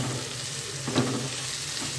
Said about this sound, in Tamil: நல்லா எண்ணெயிலே போட்டு வணக்கணும்